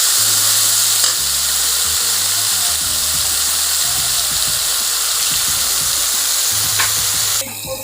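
Taro leaves frying with spices in a hot pan, giving a loud, steady sizzle with soft stirring scrapes throughout and a brief burst of heavier crackle near the end.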